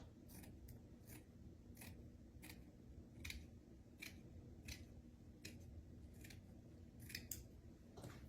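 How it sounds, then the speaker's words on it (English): Scissors snip through material around a plate while making a ghost craft, a steady series of short, crisp cuts at close range with no talking. "Cut around your plate about a 1/2 inch to a 3/4 inch."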